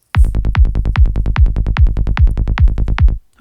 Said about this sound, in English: I've got this little kick bass going just for the sake of this demo.